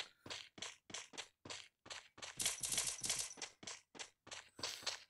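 Gunfire in the Free Fire battle royale video game, a rapid series of sharp, evenly spaced shots followed by a denser burst, loud and close without talk.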